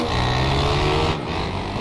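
A dirt bike engine in the motocross game MX Bikes drones at full throttle, a steady, loud buzzing tone that drops slightly near the end.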